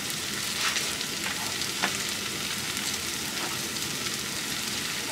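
Hot oil sizzles and crackles steadily in a pan on a burner as jambalaya cooking begins, a dense close frying hiss with a few sharper pops and no talking.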